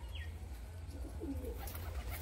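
Young female pigeons, one black-headed and one red-headed, give soft low cooing close by against steady low background hum, with no talking.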